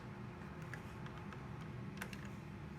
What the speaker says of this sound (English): it should start clicking and it'll light the burner inside the furnace